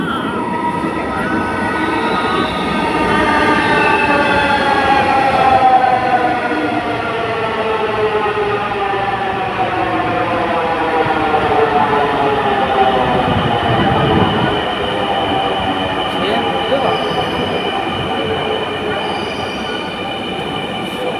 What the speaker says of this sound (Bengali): আমাদের গন্তব্যস্থানের ট্রেনটি এসে পড়েছে।